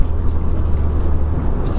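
Abarth 500 Tributo Ferrari engine pulling up and drawing in air, a steady, loud low-pitched rumble that holds evenly throughout the short moment.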